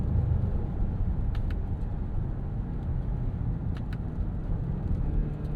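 Steady low road rumble inside a 2026 Jeep Grand Cherokee with the Hurricane turbo engine, cruising on a road with a constant broadband engine and tire drone and faint ticks, no talking.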